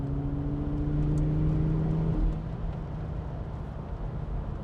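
A 2001 Audi RS4 engine running steadily while driving on a road, a close, continuous drone with a steady hum that drops slightly partway through as the engine eases off.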